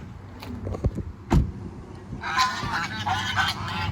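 Loud honking calls from a group of gander geese, overlapping and busy, growing denser and more continuous in the second half, close by.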